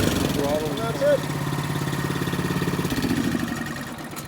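Honda HS928 snowblower engine running cold, a steady close putter with a throttle change partway through, while someone talks over it.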